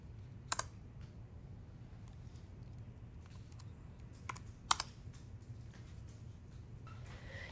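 A command typed on a computer keyboard: sparse, crisp key clicks with a few sharper taps, faint and close over a low steady hum.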